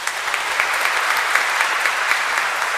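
A church audience at a celebration of priests' fiftieth ordination anniversary breaks into dense, steady applause that fills the room evenly for a few seconds, with no talking over it.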